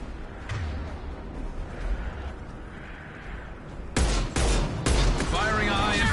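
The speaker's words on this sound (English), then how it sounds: "Firing a high-impact shot." Rapid bursts of gunfire in the Mass Effect sci-fi shooter, quieter shots early then loud, sharp volleys near the end, with voices talking underneath.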